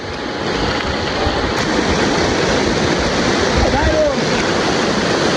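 A mountain river roars through a valley near Skardu with a constant, loud rushing of water. Wind buffets the microphone on top of the torrent.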